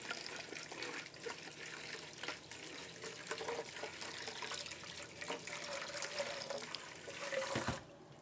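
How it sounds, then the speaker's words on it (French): Water poured again over a bowl of soaking alfalfa seeds, a steady close splashing trickle that swells into a brief louder gush near the end. "Je vais ajouter de l'eau à nouveau."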